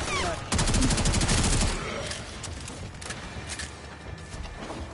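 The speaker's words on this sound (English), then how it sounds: "I'm just gonna pull out my assault rifle." Assault rifle gunfire in the game Warframe, a rapid burst of loud automatic shots followed by scattered fainter shots and game noise, with a voice talking faintly underneath.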